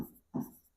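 Marker or chalk strokes on a board during a calculus lesson: two short scratchy strokes close by, the second louder, with no talking over them.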